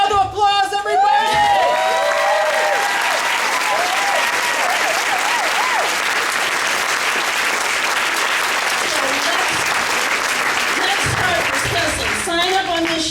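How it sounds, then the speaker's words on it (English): A crowd at a community race talk event breaks into loud, sustained applause with cheering and whoops, a voice rising over the start, the clapping continuing densely for several seconds before fading as talk resumes. "Give her a round of applause, everybody!"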